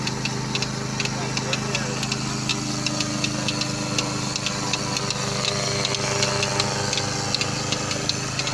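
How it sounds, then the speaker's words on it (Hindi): A generator runs steadily on a dairy farm, a constant mid-pitched engine drone with faint rhythmic ticking throughout, while someone talks over it. "और ये इस साइड पे हमने ये जनरेटर रखा हुआ है"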